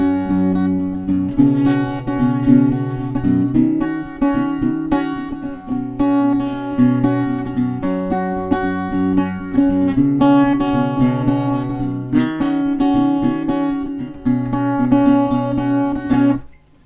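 Acoustic guitar played loudly and aggressively in the fingerpicked chorus pattern of a song, a steady rolling run of bright plucked notes over ringing bass strings, continuous and close with no voices.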